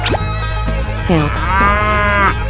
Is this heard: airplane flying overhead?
no